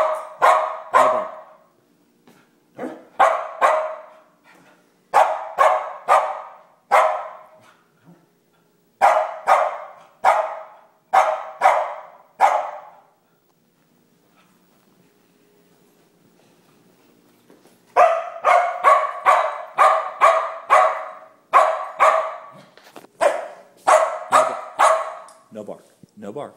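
A dog barks in quick bursts of several loud, close woofs, with a quiet pause midway before the barking resumes.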